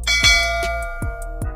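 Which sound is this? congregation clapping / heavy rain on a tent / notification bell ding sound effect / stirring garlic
notification bell ding sound effect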